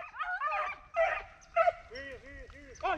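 Hunting dog out after cottontails in the rain whimpering and yipping in short high pitched bursts, several rising and falling cries in quick succession, close by with a person speaking briefly.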